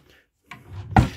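A short wooden scrape and knock of a drawer sliding open, ending in a sharper thud; brief and close.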